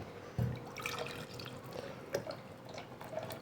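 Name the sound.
water poured into jug with mango mixture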